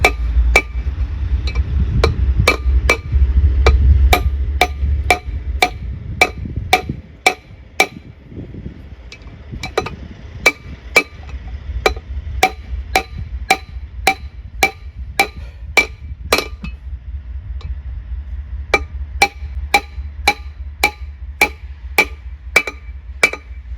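Repeated sharp metallic hammer taps seating a wheel bearing race on a square-body truck, steady and rhythmic, ringing against metal, with a low rumble underneath early on that fades away.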